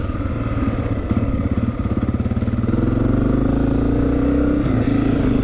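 A 2023 Honda CRF250F dirt bike engine runs steadily at close range, a continuous throbbing drone with slight rises in revs and no speech.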